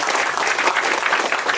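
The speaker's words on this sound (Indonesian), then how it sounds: "Ya, tepuk tangan buat Pak lawyer." Audience applause for a lawyer at an Indonesian gathering, a steady, dense clapping that fills the whole moment with no break.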